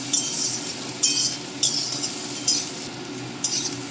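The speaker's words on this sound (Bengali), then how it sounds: "বেগুনটা দিয়ে একটু মশলার সাথে নেড়ে নেব" Stirring eggplant with spices in a pan, with periodic scraping and clinking strokes of a utensil about every half to one second over a low steady background hum, close and moderately quiet.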